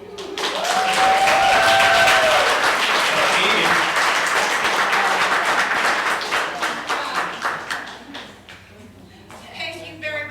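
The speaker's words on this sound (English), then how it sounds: "take a round of applause" Audience applause at a community recreation mixer honoring the event of the year, dense and loud at first, then thinning into scattered claps that fade over the final seconds, with voices mixed in.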